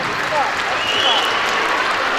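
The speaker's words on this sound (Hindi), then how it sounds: "ताली होनी चाहिए बेटा हमारे ऑनरेबल गेस्ट" Steady audience applause for an honoured guest at a convention centre event in Islamabad, a dense even clapping from a large crowd lasting throughout, with a faint voice beneath.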